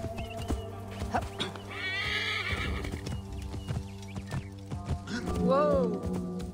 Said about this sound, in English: I think we should get our horse.